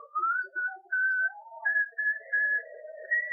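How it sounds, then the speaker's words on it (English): A man in an audio drama whistles a wandering tune alone, clear and fairly close, in a series of sustained notes and short phrases with brief pauses between them. "Stafford began to whistle."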